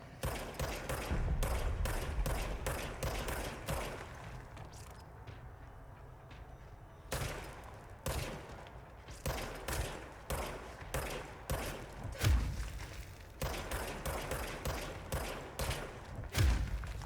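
Service weapon with infinite ammo fired in the video game Control: repeated bursts of gunshots in quick clusters, separated by brief pauses and a longer lull, with heavy low thumps and sharp cracks, alone without talk.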